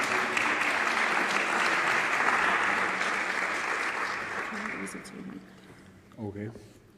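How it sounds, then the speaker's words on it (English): Audience at a conference breaking into loud, sustained applause that gradually fades away, followed by a voice starting to speak. "An applause for Ayberk."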